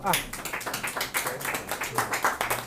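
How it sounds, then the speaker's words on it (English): An audience at a professional pest management training session claps in a quick, regular rhythm, with voices faintly mixed in. "Clap for me now."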